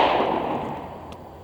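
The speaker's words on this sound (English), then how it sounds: "All you gotta do is just Prime it and shoot it." A flintlock rifle fired during a hunt, the tail of a single loud blast rolling off into a fading boom outdoors, close by.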